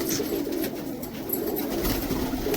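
Pigeons kept by a hobbyist in America coo in low, throaty, overlapping murmurs that run steadily throughout at moderate distance, with no talking.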